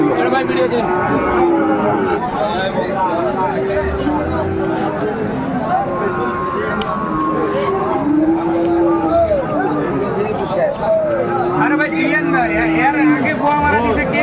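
Many cattle, including Sahiwal bulls and calves, moo repeatedly at a livestock market in Barishal, some close and loud, over a busy crowd murmur and people bargaining throughout.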